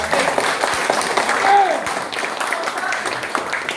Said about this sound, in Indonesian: Tepuk tangan lah.